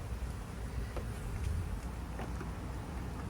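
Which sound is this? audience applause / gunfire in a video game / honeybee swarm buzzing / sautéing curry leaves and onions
honeybee swarm buzzing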